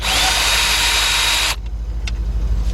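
A cordless Craftsman 19.2V drill fitted with a 10mm deep socket spins out a bolt while replacing an alternator on a BMW 528i, a loud continuous high whine for about a second and a half, then stopping abruptly into quiet.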